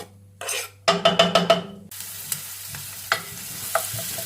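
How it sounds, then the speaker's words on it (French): Finely sliced onions drop into hot olive oil in a pot for a vegetarian minestrone, giving a burst of clattering hits followed by steady close sizzling with occasional stirring knocks. "On commence notre recette en faisant chauffer dans une gamelle 3 bonnes cuillères d'huile d'olive. On met les oignons émincés finement."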